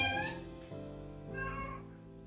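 House cats meowing, two or three drawn-out, wavering meows in quick succession, fairly close but soft, with no talking.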